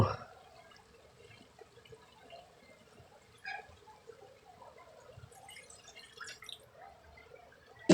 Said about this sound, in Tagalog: lagyan na rin natin ng tubig